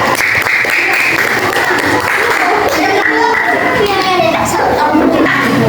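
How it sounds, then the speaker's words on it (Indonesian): A classroom of children bursts into steady, continuous applause that is loud and close. Children's voices chatter over the clapping throughout. "Boleh, tepuk tangan untuk dia."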